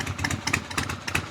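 A motorcycle fitted with drag pipes idles at a slightly raised rpm, giving a steady, close, throbbing exhaust pulse with no one talking.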